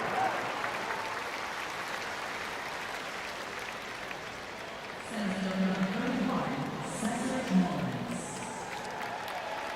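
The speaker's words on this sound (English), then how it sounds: "Cedric Mullins gets a smaller ovation, but still a little bit of a cheer for his 3rd at bat" Baseball crowd in a stadium giving a modest cheer and applause for Cedric Mullins coming up to bat, a distant, diffuse roar that swells midway beneath broadcast commentary.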